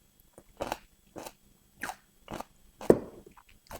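Several sharp, crisp crunches spaced about a second apart, close up and quiet between bites, like someone biting into spicy pickled cucumbers.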